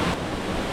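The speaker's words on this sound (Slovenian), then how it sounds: "Poglejte to divjanje vode, kakšen čudovit slap" A roaring waterfall cascade on the Ukanška Suha stream in Slovenia: a loud, steady broadband rush of falling water, close and unbroken, with no voices.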